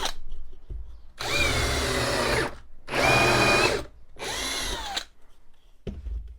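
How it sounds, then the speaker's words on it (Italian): A Parkside countersink bit in a power drill countersinks wood in three short whirring bursts, each a couple of seconds long with brief pauses between, heard close up. "con una pressione rapidissima, sono riuscito a praticare questa svasatura senza nessun problema"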